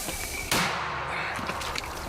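A single artillery shot bursts out sharply, a loud broadband crack followed by a rumbling decay, in a frontline combat setting.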